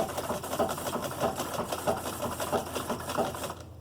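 Close and steady, a sewing machine runs continuously while stitching a short, narrow zigzag seam on stretch leggings, its rapid mechanical whirr pulsing in an even rhythm before stopping abruptly at the end.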